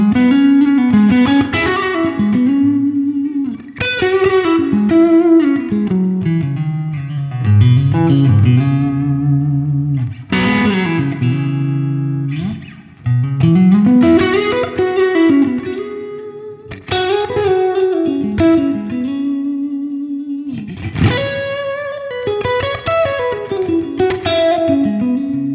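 Blues electric guitar played through a screamer overdrive pedal with tone at about 7.5, lower gain and high level, phrases of bent notes and chords, loud and sustained with reverb, alone.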